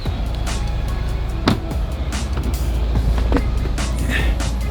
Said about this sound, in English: we're gonna need to jump in this Cadillac